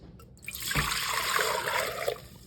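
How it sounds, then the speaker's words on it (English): Water splashes and trickles into a cooking pot that holds semi-frozen elderberries, a brief steady pour lasting about a second and a half before it tapers off, close and fairly loud. "I've got 4 cups of water. We're gonna go down in our pot"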